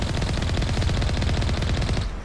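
A loud, continuous burst of automatic gunfire from the Mass Effect 1 game rattles in rapid, even shots for about two seconds before cutting off, with no talk.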